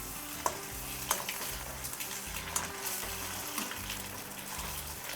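Eggs frying in hot oil in a pan, a continuous busy sizzle broken by repeated scraping and stirring clicks from a utensil, close and fairly loud, with no voices.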